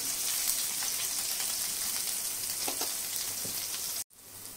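Green chillies hit hot oil with mustard seeds, asafoetida, curry leaves and turmeric for a Kolhapuri misal tempering, giving a dense, steady crackling sizzle with scattered pops that cuts off abruptly near the end.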